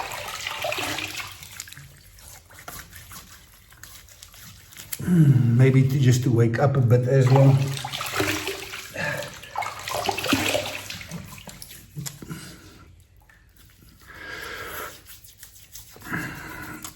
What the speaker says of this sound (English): I'm quickly going to wash my face.